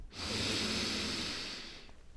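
A single deep, steady inhalation lasting about two seconds, close and breathy, taken during a guided sophrology relaxation exercise, with no talking over it.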